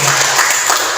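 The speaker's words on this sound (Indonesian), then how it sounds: "Tepuk tangan dulu untuk Ibu." Applause for a teacher at the close of an Indonesian teacher-mentoring session, a brief, loud burst of clapping with no talk.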